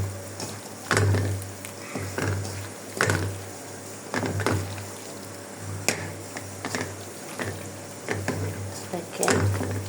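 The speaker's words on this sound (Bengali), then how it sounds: "এখন হাতে ভালো করে মেখে নিব" Small fish are mixed with oil by hand for a Bengali chorchori dish, making a wet, squelchy rustle of uneven, repeated squishes close up. No one speaks.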